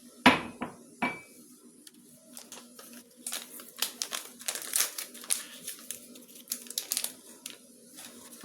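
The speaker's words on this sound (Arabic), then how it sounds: "هنفضي كوبايه الدقيق بتاعنا" A cup of flour is emptied into a mixing bowl for Lebanese sfouf, with close clinks, taps and papery rustling in an irregular series of small knocks and scrapes, no voices over it.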